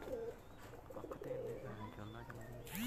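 Imported black-faced pigeons coo in low, rolling phrases, several calls repeating across the clip alongside softer chirps, with people talking nearby on a rooftop loft.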